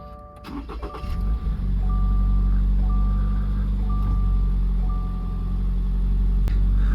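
A 2024 Toyota GR86 or Subaru BRZ, just after an oil change, cranks and fires up, then settles into a loud, steady idle close by while a repeating chime sounds.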